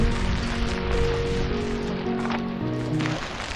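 Steady rain falling amid foggy greenery at Alexander Point in Matheran, a hill station in Maharashtra, a dense even patter close by with a faint low hum underneath.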